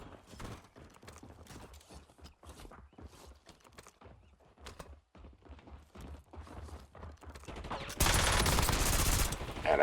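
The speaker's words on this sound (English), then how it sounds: "This gun spits out fire so quickly." Rapid gunfire from a weapon in an online squad shooter game crackles in dense, fast bursts, rising into a loud, sustained volley near the end.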